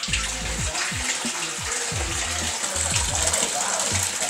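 Cooled homebrew hefeweizen wort drains from a brewing kettle into a bucket, a steady close gush of pouring liquid with low gurgling surges, no talking over it.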